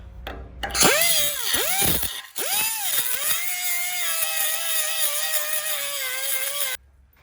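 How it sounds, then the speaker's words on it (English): A small grinder cut-off wheel deburrs freshly drilled holes in the steel of a 1969 Ford F100, spinning up into a loud, steady whine whose pitch dips and rises a few times before settling into a sustained cut, then stopping abruptly. "I'm just going to take this little grinder cut-off wheel and go in here and deburr these from where we drilled them a little bit"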